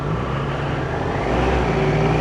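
Cars passing on a road during a Sunday run to Woburn Abbey, a steady loud engine and tyre roar close by that swells slightly toward the end, with no talking.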